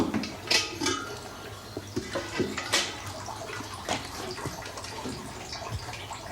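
Distilled schnapps trickling out of a still's condenser pipe in Germany, a soft continuous liquid flow with faint splashes and occasional clinks, fairly quiet throughout.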